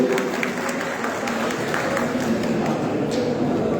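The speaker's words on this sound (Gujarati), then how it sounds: "બધા તાળીઓના ગોંગળાટથી એને વધાવી લઈશું" Crowd applause in the Swami Vivekananda Town Hall at a cooperative gathering in Viramgam, greeting the taluka general secretary: a continuous wash of clapping at a moderate level, with a few sharper claps standing out.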